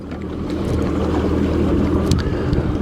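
A fishing boat idles slowly across a wide, shallow lake flat, its low, steady engine rumble running under rushing wind noise on the microphone, with no talking.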